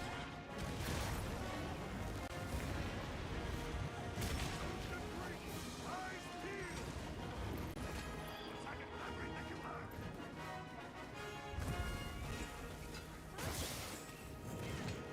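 Heavy explosions and booming impacts from the video game Monster Hunter Wilds, during a fight with the monster Gogmazios, roll through a dense, continuous wash of loud battle noise lasting the whole stretch.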